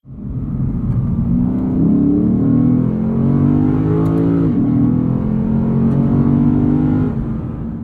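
A Lexus IS F with a naturally aspirated 5-litre V8 revs up and holds high, a loud, close, continuous engine roar with a steady rising pitch and a brief dip midway.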